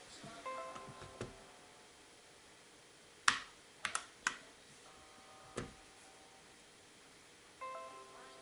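Scattered, isolated key clicks come from a Drevo Calibur mechanical keyboard with red switches: a few sharp taps spaced out in a quiet room, with some faint tonal sounds in the background.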